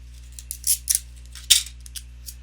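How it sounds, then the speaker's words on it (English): Strips of adhesive tape are torn and pulled to fix a paper sheet down on a desk, giving a few short, close, crisp rips and crackles spaced apart against a low steady hum. "tape it down just a couple pieces"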